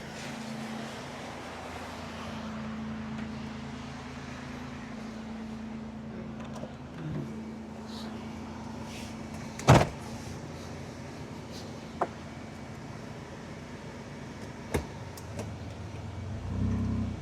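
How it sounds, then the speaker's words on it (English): A car idles and creeps in reverse with a touch of throttle, moving off a beach onto concrete; the engine gives a low, steady hum, with a few sharp knocks and a slight swell near the end. "just have it in reverse, tiny bit of gas, and we'll try and get around up onto the concrete"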